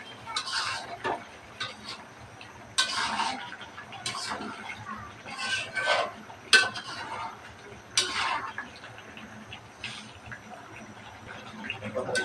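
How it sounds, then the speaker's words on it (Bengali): Beef and potatoes being stirred in a cooking pot, with repeated scraping and clinking of a utensil against the metal in short irregular bursts, close by, over faint background noise. "আলতলা ধরে একটু নাড়াচাড়া করে নেব"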